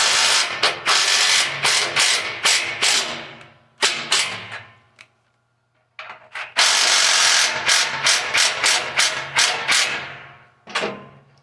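A hand ratchet tightens locking flange nuts on a Ferris IS600Z mower chute blocker kit, loud rapid clicking bursts in several runs with a short silent pause between them.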